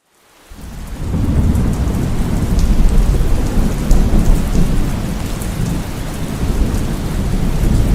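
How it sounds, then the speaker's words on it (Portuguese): Heavy rain pours steadily on a stormy night, with thunder rumbling through it and building after a short silent start; no one speaks. "uma noite de chuva. Uma chuva até que bem forte, mas nada demais. Alguns raios assim beliscavam o ar"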